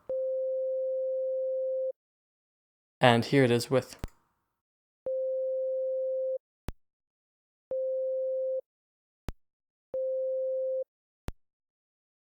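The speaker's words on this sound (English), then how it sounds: "But the sine wave, it sounds exactly the same either way." A steady pure sine-wave test tone plays in several separate bursts, with a brief spoken phrase between the first two and sharp clicks in the gaps.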